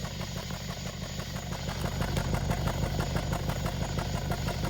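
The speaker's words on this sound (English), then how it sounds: "let's go listen to the exhaust note. You see, it is definitely misfiring." Rough, uneven misfiring idle of a Nissan Rogue with its O2 sensors disconnected, a rhythmic stumbling pulse in the exhaust, growing slightly louder partway through.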